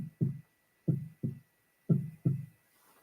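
A person's voice mimics a heartbeat with low, thumping lub-dub pairs, three double beats evenly spaced over a few seconds, close and fairly soft, with no other talk.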